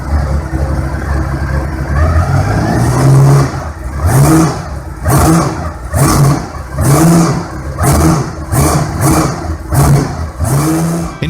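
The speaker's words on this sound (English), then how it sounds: "a video surfaced online showing the fully functioning Ducati Eleanor engine" Ducati Eleanor motorcycle engine running loud and close, revved repeatedly in a steady rhythm of about eight rising blips with brief drops back toward idle between them.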